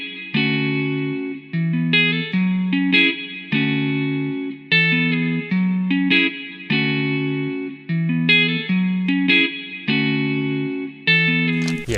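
Evolution Jazz Archetype virtual guitar in Contact plays a clean melody over basic chords, with bright plucked notes in a steady repeating phrase, close and alone with no talk.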